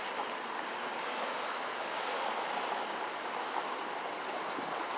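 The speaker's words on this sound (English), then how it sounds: "And the water's going downstream" Stream water flowing downstream near Central Ave in Milton, a continuous broadband rushing hiss with steady level, moderately distant and uninterrupted, with no voices.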